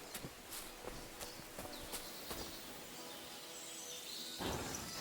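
Horse hooves clip-clopping on the ground in the medieval video game Kingdom Come II, a steady run of light, evenly spaced hoof strikes with faint birdsong, no talk.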